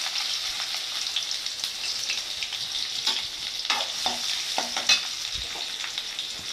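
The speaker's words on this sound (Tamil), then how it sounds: "இப்போ வெங்காயம் நல்லா வதங்கட்டும்" Two small chopped onions fry in hot oil with fenugreek seeds in a pan, giving a steady hissing sizzle broken by a few scraping spatula strokes near the mic, with no voice heard.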